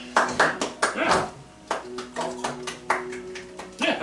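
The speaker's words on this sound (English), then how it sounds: "Golf clap." A few people give a quiet golf clap, soft scattered claps mixed with chatter and laughter in a casual room.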